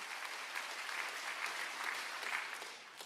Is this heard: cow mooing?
no